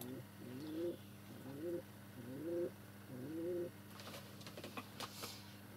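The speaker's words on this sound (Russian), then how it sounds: "Голуби у меня." Pigeons coo in a village setting, with four soft rolling calls in a slow regular rhythm, fairly quiet, followed by faint clicks and background noise.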